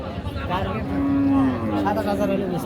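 A cow at a livestock market in Aftabganj, Dinajpur lets out one long, loud moo that bends in pitch, with faint crowd murmur behind it.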